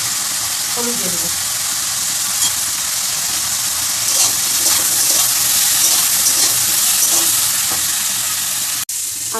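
Potatoes with turmeric fry in hot oil, giving a continuous loud sizzle with occasional soft stirring scrapes and bubbling pops, close up and steady throughout.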